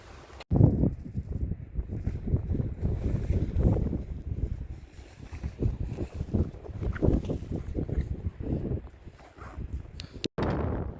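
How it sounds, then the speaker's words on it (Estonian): Very strong wind sweeping across a frozen lake in Sweden's Sarek National Park, a loud, continuous roar that buffets the microphone in gusts, with a brief thump near the end. "Ülitugevad tuuled on"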